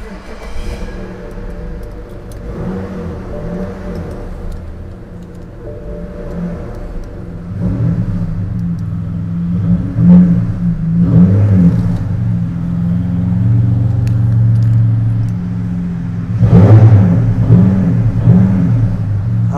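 A 2011 BMW 528i engine idles with a low, steady rumble, then swells through several revving pulls that rise and fall, loud and close with no talking.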